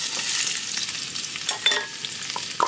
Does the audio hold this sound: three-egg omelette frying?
yes